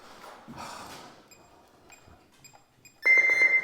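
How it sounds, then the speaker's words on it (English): An electronic alarm sounds loud and close with a sustained, rapid beeping after some quieter beeps, handling noise and breathing. "the alarm's on"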